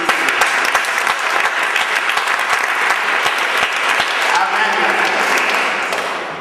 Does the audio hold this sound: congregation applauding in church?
yes